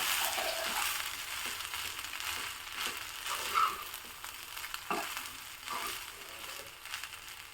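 A quiet, steady sizzle with soft scraping and stirring strokes as seasoned rice and tempering are mixed around a hot pan, with no voices.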